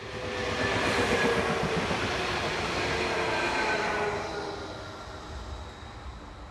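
A three-car Class 427 unit, number 003, passes on the busy German mainline between Fulda and Bad Hersfeld on a local stopping service, a loud close rumble of wheels and rails that swells, holds, then fades as it moves away.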